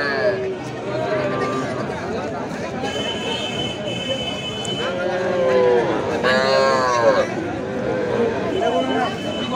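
Young bull calves low out with several drawn-out moos, the loudest toward the middle, amid the busy chatter of a rural cattle market crowd at Kaharol haat.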